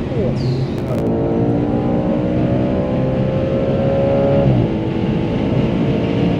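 A 2013 Audi RS4's naturally aspirated V8 roars loudly and continuously, its pitch climbing steadily as the car accelerates hard from a standstill, heard from inside the car.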